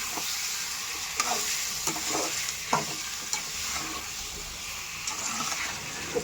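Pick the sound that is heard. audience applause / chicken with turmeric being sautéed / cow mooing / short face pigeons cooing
chicken with turmeric being sautéed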